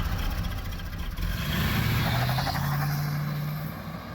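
A caged, jacked Lincoln car set up for winter racing runs its engine, a low steady drone that swells and holds a rising tone before easing off, heard alone without talk.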